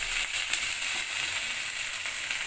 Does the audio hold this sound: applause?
no